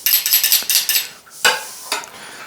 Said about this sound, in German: So, einmal umrühren